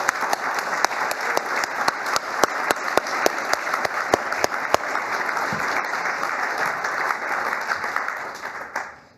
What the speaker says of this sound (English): Can we have one more round of applause for Matt?